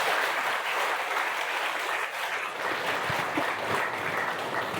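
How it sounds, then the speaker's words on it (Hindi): Steady applause from a seated audience at a spiritual meditation gathering, dense and continuous clapping filling the whole stretch at even loudness with no talk over it. "चलिए ताली बजा दो बाबा के लिए।"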